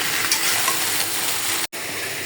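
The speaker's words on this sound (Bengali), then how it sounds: "এবার আমি সবজিটা ভেজে তারপরে মশলা দিয়ে দিব" Potato and eggplant pieces fry with salt and turmeric in a wok, making a loud, dense, continuous sizzle close up that cuts out briefly near the end, with no talking.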